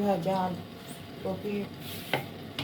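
A soft sizzle of cauliflower frying in a pan runs under a voice talking, with a light clink of utensils near the end.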